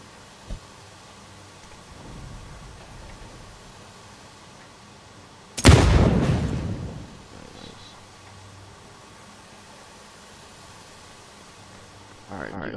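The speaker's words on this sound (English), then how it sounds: "Pick up a grenade. Fire the grenade." In a video game, a grenade launches with a single sudden loud burst midway that trails off over a second or two, set against a quiet hiss with faint background sounds.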